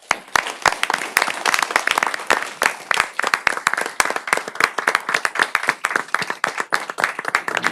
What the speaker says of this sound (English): I want us all to give them a big round of applause